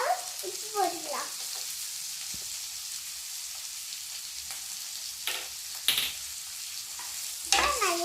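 Tomatoes sauté in a pan with salt for carrot chutney. A soft continuous sizzle runs under occasional stirring scrapes and a few sharper clatters. A brief voice murmurs at the start and end.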